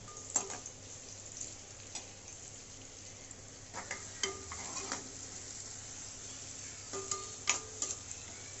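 Onions fry quietly in a little oil for a Godavari-style crab curry, a faint, steady sizzle broken by occasional sharp clicks and utensil taps.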